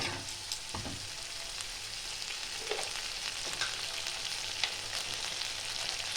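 Spice masala with ground cumin frying in a pan for a shankar fish curry gives a steady, soft sizzle with a few faint stirring scrapes, close by and without talk.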